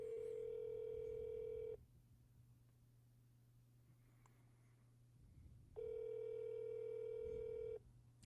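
A telephone ringback tone heard over a speakerphone while calling a GameStop store, two long rings separated by a quiet pause, with faint room noise in between.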